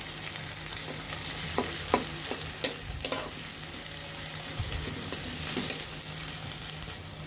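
Chopped onions frying in a pan for a small-fish curry with tomato, a steady close sizzle broken by a series of scraping stirs and light utensil taps against the pan.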